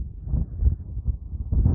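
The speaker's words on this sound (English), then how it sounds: "Very windy. Hard to hold the phone in my hands." Strong gusting wind buffets the microphone on an exposed high point of Wilson Ridge in Lovell Canyon, Nevada, producing a loud, low, rumbling roar that surges and dips with no voices.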